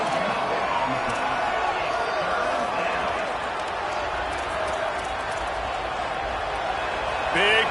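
Stadium crowd noise from a college football video game, a steady roar throughout under continuous play-by-play commentary, swelling slightly near the end.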